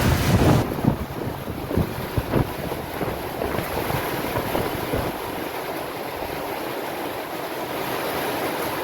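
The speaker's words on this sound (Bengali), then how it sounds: "হাওয়া হচ্ছে, দারুণ হাওয়া।" Strong storm wind blowing hard and steadily, roaring and buffeting close to the microphone with a constant rushing noise and no voices.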